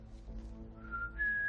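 A person whistles to imitate a space flute, holding a thin, steady tone that rises and grows louder toward the end, close and alone.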